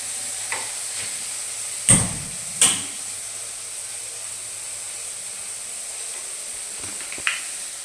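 Eggplant fries in a pan with a steady, faint hiss of oil, broken by two short louder scrapes or stirs early on and a small knock near the end, with no talking.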